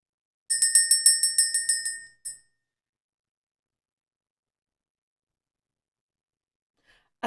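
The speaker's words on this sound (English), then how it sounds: "Let's go ahead and ring the bell." A small bell is rung in about a dozen rapid bright rings, ending with one last strike before long silence, then a brief sound at the very end.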